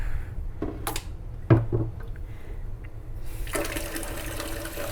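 Fresh water running and splashing into a container during a homebrew brew day for a Kolsch kit, a steady rushing pour that lasts the whole stretch and grows brighter and louder toward the end.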